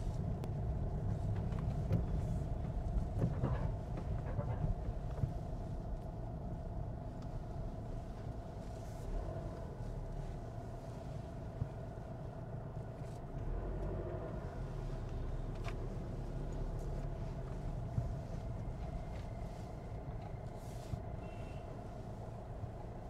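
A vehicle drives along a road toward a petrol station, its engine and tyre rumble steady and low throughout, with interior road noise and faint passing sounds and no talk.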